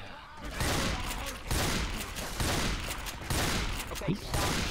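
Dense automatic gunfire in the zombie shooter Left 4 Dead 2, continuous loud bursts of shots filling the whole clip with brief pauses between volleys.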